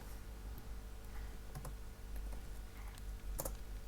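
A name and an age are typed on a computer keyboard in short, sparse bursts of close, light key clicks with pauses between them.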